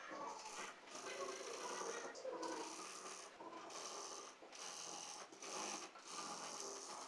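A sewing machine stitches fabric for a high-low umbrella palazzo, running in a faint, steady whir broken by several brief pauses.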